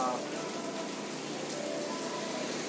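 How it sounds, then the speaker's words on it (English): Steady rain pours down in Nassau, Bahamas, a constant dense hiss of falling water on surfaces heard close and continuous without pause. "the rain came down"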